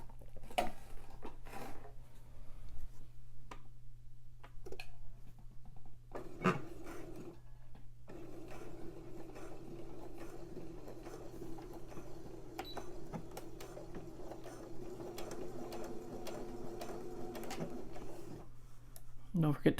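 A sewing machine runs a regular straight stitch along a seam on a gusset, a quiet rapid mechanical patter that starts and stops in bursts over a steady low hum, with a person talking softly at times.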